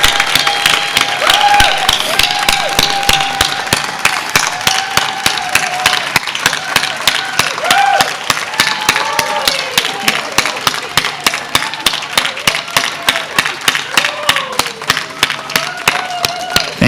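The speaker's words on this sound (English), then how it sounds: "please join me one final time in a round of applause for our 2025 Teachers of the Year" Sustained crowd applause with cheers and whistles at a Teacher of the Year 2025 ceremony honoring teachers, steady dense clapping lasting throughout, loud and close with no speech over it.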